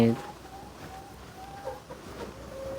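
Chickens cluck around a rural home, with a short hen call at the start and soft fowl sounds continuing beneath people talking nearby.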